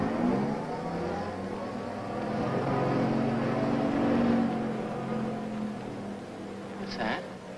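A big truck engine rumbles very close by, a low, steady drone that swells in the middle and eases off again.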